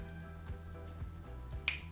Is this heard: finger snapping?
yes